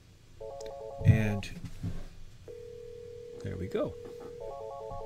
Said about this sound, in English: we hit dial. And we see 206 is ringing.